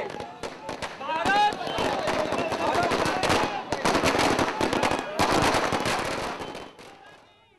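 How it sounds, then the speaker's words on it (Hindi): Celebratory fireworks and firecrackers set off by a street crowd in Kota, India, crackling in dense rapid volleys of pops and bangs for several seconds, with voices shouting underneath. "कसाब को फांसी देने से खुश लोगों ने आतिशबाजी कर अपनी खुशी का इजहार किया।"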